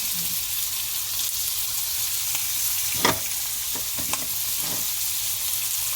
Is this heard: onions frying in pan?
yes